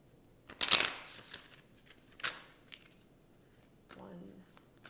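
A deck of tarot cards riffles sharply once, followed by lighter card handling and a faint murmur of voice near the end.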